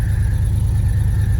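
A 1971 Ford F250 Highboy engine idles low and steady right after a cold start, a loud, even rumble with a faint whir and no voices.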